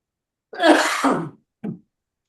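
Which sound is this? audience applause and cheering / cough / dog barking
cough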